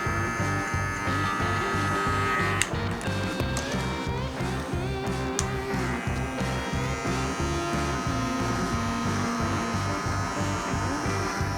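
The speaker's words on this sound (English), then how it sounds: "And as I'm blending into the bald, I'm not laying my clipper flat." An electric hair clipper buzzes steadily while trimming and blending a beard into a bald head, with the motor's pitch shifting as the teeth glide at an angle over the hair.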